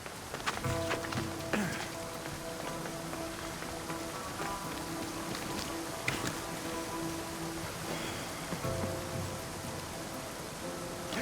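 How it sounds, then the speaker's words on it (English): Steady broadband rush of a waterfall in Assassin's Creed Odyssey, a continuous hiss at even level, with a faint melodic game music tone and a few soft thuds and footstep-like taps over the top. "This is the waterfall."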